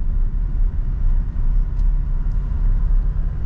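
Steady, loud diesel engine drone and low road rumble from inside a 2022 Toyota Innova Reborn G-type manual on the move, a continuous in-cabin hum with no clear break for a gear change.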